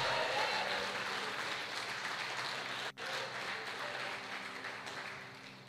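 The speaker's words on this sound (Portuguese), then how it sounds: "Dê um forte aplauso ao Senhor" Church congregation applauding together at a closing conference gathering, a dense, steady wash of clapping with a brief dip midway before it continues, fairly loud throughout.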